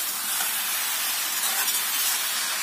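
Mustard greens (saag) fry over high heat in an open pan, making a continuous, even hiss of steam and sizzle, close and fairly quiet, with no speech.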